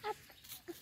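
Spanish-breed hens and young laying chickens give a few short, soft clucks, faint and spaced apart in a quiet farmyard.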